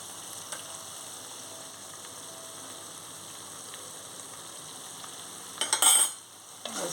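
Gongura chicken with masala powder being stirred in a frying pan, a soft steady sizzle with a brief louder burst of scraping near the end, no talk.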